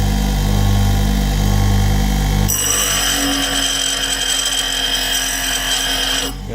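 A bench grinder sharpens a large drill bit, its steady motor hum joined by a harsh, continuous grinding rasp as the bit meets the wheel, running close and loud with no talk.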